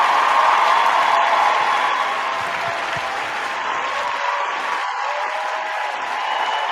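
A studio audience gives a guest sustained applause that stays loud and dense for several seconds and eases off slightly toward the end.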